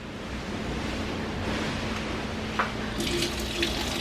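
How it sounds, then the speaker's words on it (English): Hands are washed under a steady stream of running tap water in a kitchen sink without soap, a constant moderate splash with brief clinks near the end, no talk. "There. Hands washed."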